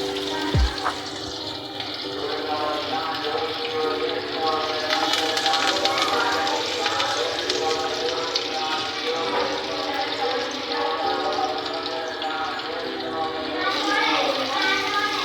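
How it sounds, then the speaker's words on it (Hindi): Chicken wings dropped into hot oil in a pan over a medium flame, a continuous loud sizzling and bubbling that persists throughout, with someone talking over it. "अब इसके अंदर मैं विंग्स ऐड कर रही हूँ।"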